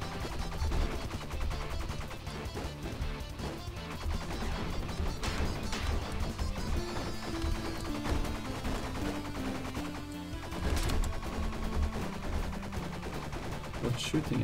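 Rapid gunfire and crashes from the video game Bleed, dense and continuous over game music, with no talk.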